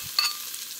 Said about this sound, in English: And into there I'm going to put a couple of sliced onions